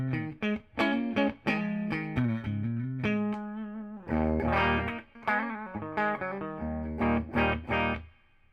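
A Fender Stratocaster electric guitar played clean through a tube amp, a sequence of ringing chords and single notes with sharp attacks and short sustains, alone and fairly close.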